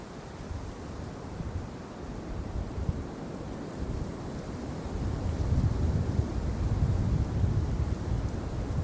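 Steady, rumbling wind buffeting the microphone, a broad low roar that swells slightly louder toward the end, with no voices.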